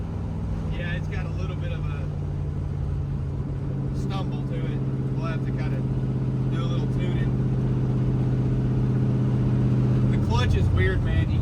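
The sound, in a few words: Dodge Dart V8 engine running with a stumble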